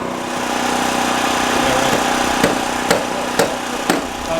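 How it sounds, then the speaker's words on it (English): Nail gun driving nails through joist hangers on a house build's subfloor framing, five sharp evenly spaced impacts about half a second apart over a steady engine-like hum of a running compressor. "Nailing off the hangers for the LVO goes across there. 40 nails in each one of these hangers."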